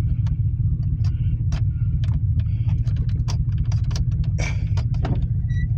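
A 1989 Chevy Silverado pickup with old gas idles rough and steady, a loud continuous low engine rumble with scattered clicks and rattles over it.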